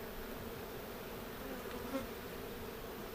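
Honey bees hum in a dense, steady drone close by as a large hive is opened for inspection after a swarm, a faint tap sounding partway through.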